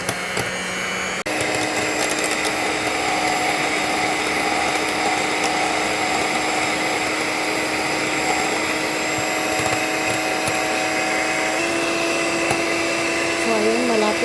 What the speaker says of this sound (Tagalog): kung meron tayong ganitong machine, kailangan po nating ibit yung ating egg white